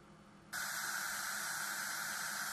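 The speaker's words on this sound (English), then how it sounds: "Going through all the colours up to grey noise." A steady, loud hiss of grey noise from a generator switches on abruptly after a short quiet stretch and holds evenly to the end.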